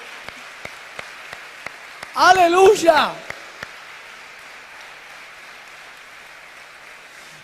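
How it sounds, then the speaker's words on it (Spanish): Faint, steady clapping from a church congregation runs throughout, and a loud voice shouts once over it near the middle. "Un aplauso grandote al Señor ahí"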